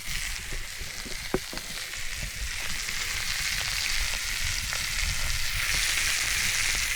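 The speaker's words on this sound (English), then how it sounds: "Got the steak cooking." Steak sizzles steadily as it cooks over a campfire on a camping trip on an island, a continuous close, loud frying hiss with faint crackles and no talk.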